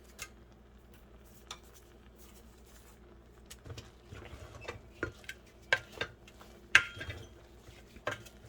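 Rice with salt and bacon being mixed in a pot for party rice, with sporadic spoon scrapes and clinks against the metal that come faster in the second half, over a low steady background hum.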